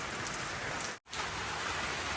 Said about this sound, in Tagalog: Yung ulan nabawasan ng konti pero malakas pa rin